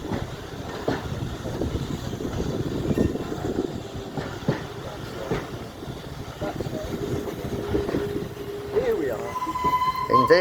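An A1 class steam locomotive, 60163 Tornado, hauls its train into Horsham station, with a steady rumbling roll and clatter of the carriages running throughout, loud and close, with a faint high squeal near the end.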